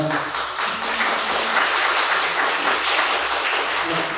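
A congregation claps during a Korean church worship service, a broad crackle of many hands that builds slightly and stays steady and fairly close for about four seconds, with no talk over it.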